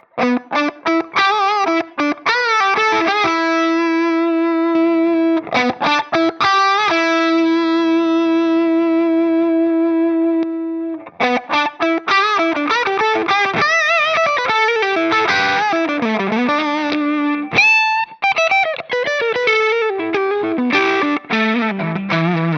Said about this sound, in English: dial in just the right amount of sort of touch-sensitive distortion